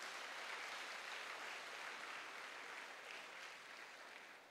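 Church congregation applauding, a faint, distant wash of steady clapping that slowly fades slightly, with no talk over it.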